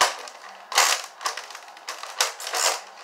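A toy Nerf gun fires several times in quick succession, each shot a sharp, close snapping thwack with a brief rattling tail, spaced unevenly over a few seconds.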